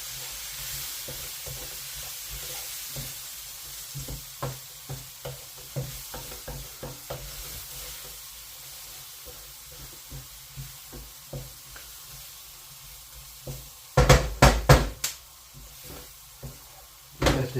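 Aromatic beef curry with chili powder stirred in a pan, a steady run of spoon scrapes and knocks against the metal over a low sizzle, ending in a louder burst of clattering strokes.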